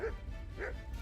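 A dog in Kingdom Come Deliverance 2 lets out two short, yippy barks about half a second apart, close and moderately loud over a low background rumble.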